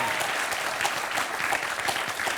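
Warm applause from a game show contestant's fan club in a television studio audience, a steady even patter of many hands lasting a couple of seconds at moderate distance.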